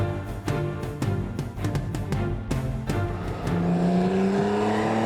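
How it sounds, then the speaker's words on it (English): A Porsche sports car engine at a Southern California driving experience center: a series of sharp revving bursts and gear changes, then a sustained rising roar as the car pulls away, loud and close. "The roar of the engine says it all."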